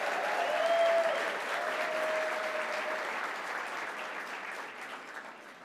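Sustained applause from a large audience at a GLAAD gala event, steady dense clapping filling the room for several seconds and slowly tapering, with no speech over it.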